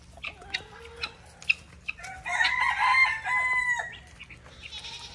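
Nearby chickens give a few short clucks, then a rooster lets out one long, loud crow, and quieter clucking continues after it.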